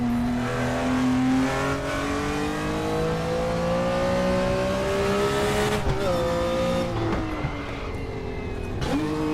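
A race car engine in the RaceRoom video game laps the Nordschleife, droning loudly and steadily as it climbs through the revs. Gear changes cause brief dips and jumps in pitch. The engine runs throughout with no talk.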